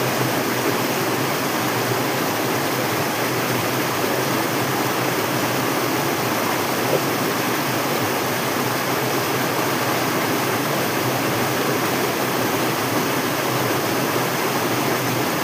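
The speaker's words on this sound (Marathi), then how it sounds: "त्यात पाऊस पण येत आहे." Rain falls beside a stretch of water during a crab-catching outing, a loud, unbroken wash of hiss and rushing water that stays even throughout.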